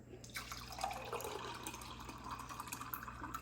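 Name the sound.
pouring juice from a Breville Juice Fountain Elite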